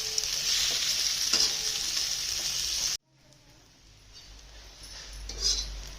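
Dried bombil (Bombay duck) fish frying in hot oil until reddish and crisp: a loud, dense, steady sizzle that cuts off abruptly halfway, followed by a much quieter, softer crackle.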